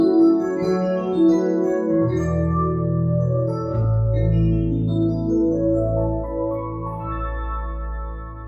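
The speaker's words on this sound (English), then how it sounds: "I could pick one of the famous Yamaha DX sounds like this." Yamaha CLP-775 digital piano on a classic Yamaha DX electric piano voice, a few sustained chords with bell-like shimmering tones and a deep bass note entering partway, close and clean with no talking.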